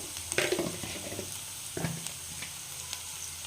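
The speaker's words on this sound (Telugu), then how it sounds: "పచ్చివాసన అంతా పోయే వరకు ఫ్రై చేసుకోండి" Oil sizzles and crackles as ginger paste with cumin and turmeric fries in a pan, with a couple of stirring bursts standing out against the steady hiss.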